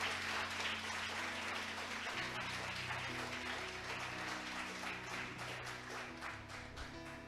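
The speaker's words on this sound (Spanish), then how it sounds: "Yo te pido que le des un fuerte aplauso a Dios," A church congregation claps for God during a sermon, a steady wash of applause that holds at moderate level and slowly thins toward the end, with a low sustained tone underneath.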